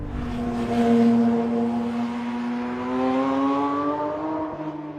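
Porsche 911 GT3 engine with a lightened clutch and flywheel, revving hard and accelerating, a loud close rising howl that climbs steadily in pitch before dropping off at a shift.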